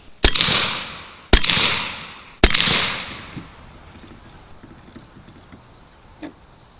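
Three sharp, loud shots from a Bintac T50 PCP air rifle at about one-second intervals, each with a snappy crack and a decaying ring, followed by quieter faint clicks and handling noise.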